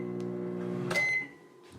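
A microwave oven hums steadily at close range, then its tone shifts with a brief click and a thin high whine before settling into a quieter drone.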